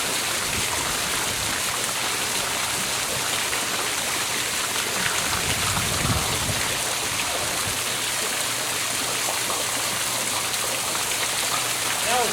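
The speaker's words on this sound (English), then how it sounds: "The water flow is going." Water flows steadily as a freshly opened swimming pool circulates through its main drain, a constant close rushing and splashing hiss with no pauses.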